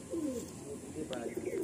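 A Madrasi or Andhra pigeon offered for sale coos close by, a couple of soft throaty rolling calls over low background noise, with someone talking nearby.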